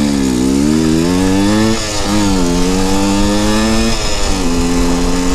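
A two-stroke pit bike engine revs hard and loud up close, its pitch rising and dropping in surges as the clutch slips, alone without talking.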